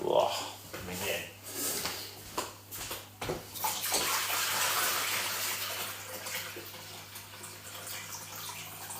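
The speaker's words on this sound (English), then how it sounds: "I go and empty the jug out" Water pours out of a jug indoors, starting with a few splashy bursts before settling into a steady, sustained gush that slowly tapers off.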